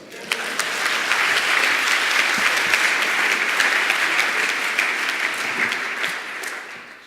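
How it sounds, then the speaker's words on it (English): A conference audience at a programming talks session claps in steady, full applause that holds for about seven seconds before tapering off, with no speech over it. "Big round of applause"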